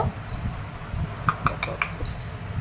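A cup and plate clink together at close range, a few sharp ceramic taps and chinks scattered over a soft background hum, with no talking.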